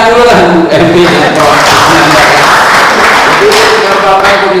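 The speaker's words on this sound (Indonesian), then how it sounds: "Tepuk tangan dulu lah MP nya." A room of people claps together in a loud, continuous burst of applause at a seminar, with voices mixed in underneath.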